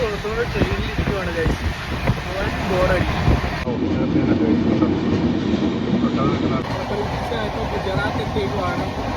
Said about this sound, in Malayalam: ഡോറിൻ്റെ സൈഡിൽ ഓപ്പോസിറ്റ് ഒരു ട്രെയിൻ വരുന്നത്